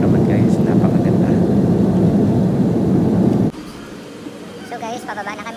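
Loud airplane cabin rumble after landing in Dubai, a dense low roar that abruptly drops to a quieter hum, with faint voices in the background.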